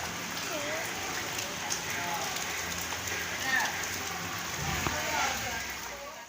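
Heavy rain falls steadily outside, heard from indoors as a continuous soft hiss and patter at moderate distance, with no breaks across the whole stretch.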